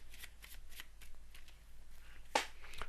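Playing cards are shuffled for a magic trick, giving a quiet, steady riffle of repeated soft flutters with a sharper snap near the end, close up and with no talking.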